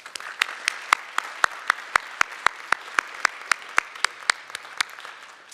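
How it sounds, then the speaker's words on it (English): Applause and scattered clapping from the audience at a high school graduation ceremony, with sharp individual claps standing out over a steady wash of hands, moderately loud and fading slightly toward the end. "with a round of applause"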